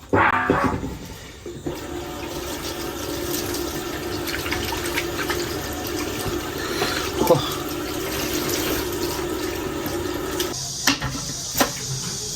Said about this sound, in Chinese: 焯水，再给它洗一下，上面沾有浮沫。